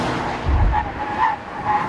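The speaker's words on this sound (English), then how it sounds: "can you drift this thing?" A BMW M car with a twin-turbo six-cylinder engine drifts, its tires skidding and squealing in wavering pitches over a loud engine roar throughout.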